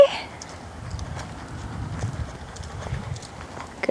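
Horse hooves clip-clop in a quick, even rhythm on soft arena footing during a jumping lesson, close by and steady for a few seconds with no voices.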